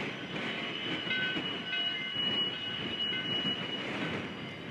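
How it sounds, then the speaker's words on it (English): Virginia & Truckee steam locomotive number 29 rumbles steadily past, easing a train down the steep grade at Gold Hill, with continuous rolling noise and high squealing wheels, close and loud throughout. "number 29 eases the train down the steep grade at Gold Hill."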